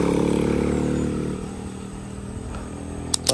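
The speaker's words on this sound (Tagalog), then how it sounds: "Mga motor lang yung mga dumaan daan dito po." A motorcycle drives along a quiet rural road, its engine drone loud at first and fading as it moves away, with a couple of sharp clicks near the end.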